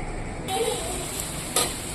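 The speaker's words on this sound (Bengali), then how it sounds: "মাংসের আলুটা ভেজে নেব" Potatoes for a meat curry fry in a pan with a close, steady sizzle, broken by a couple of sharp stirring clatters.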